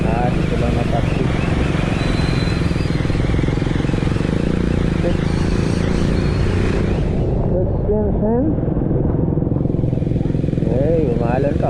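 A motorcycle moves along a road flooded by rain, its engine droning steadily and loud throughout, with splashing and clatter mixed in and voices talking over it in the later part.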